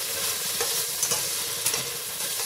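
Tomatoes frying with turmeric in a pan for moong dal khichdi, giving a steady close sizzle with a few soft stirring scrapes and clinks, no voices.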